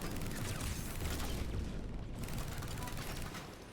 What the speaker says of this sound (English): That's a grenade, isn't it?